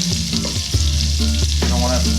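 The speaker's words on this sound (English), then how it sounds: "We're just breaking down the garlic." Garlic sautéing in a mix of oil and butter in a sauté pan, a steady close sizzle with scraping stirs breaking through, no talking.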